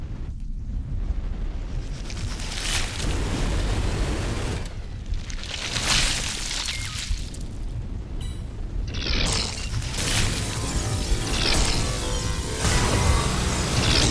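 Explosions in the space combat game Everspace 2 give repeated heavy, rumbling bursts with long roaring decays, loud and dense and heard without talk.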